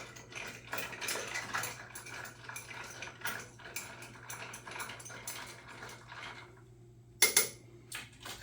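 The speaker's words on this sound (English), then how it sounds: "Using our bar spoon, give it a stir, mix everything together a little bit." A bar spoon stirs ice in a mojito glass, giving a steady run of light clinks and rattles, then a short pause and a sharper final burst of clatter near the end.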